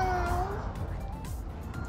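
A toy kitty from a Barbie pets set gives a clear electronic meow, rising and falling twice, close and fairly loud over faint background noise.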